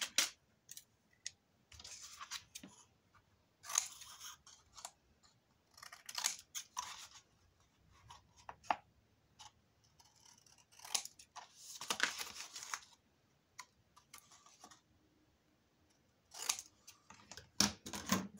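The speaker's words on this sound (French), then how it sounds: "Hop, je coupe mes coins." Scissors cutting the corners of paper while assembling a vintage mini album, with crisp separate snips coming in short clusters and spaced by quiet pauses, close to the microphone.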